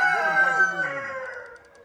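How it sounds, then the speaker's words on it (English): Rooster crowing at an organic chicken farm in Lincolnshire, a single drawn-out call close by that trails off over about two seconds. "Organic chicken farm in Lincolnshire."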